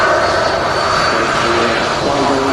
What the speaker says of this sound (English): There goes the King Air.